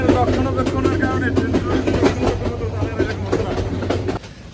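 Close, steady rumble and clickety rattle of a Bangladesh Railway carriage in motion, with a loose door knocking, before the noise drops away abruptly near the end.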